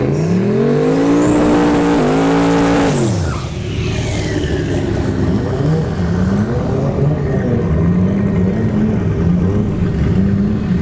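Drag racing cars accelerating hard down the strip at ShowTime Dragstrip during a test-and-tune session, a loud roaring engine climbing through gears, then a second engine droning on as the sound trails off into the distance.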